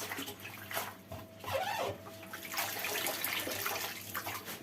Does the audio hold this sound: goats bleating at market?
no